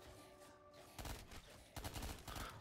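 SMG fire in a video game: rapid bursts of automatic gunfire crackle in quick, dense volleys, faint overall, with a couple of separate bursts over a few seconds.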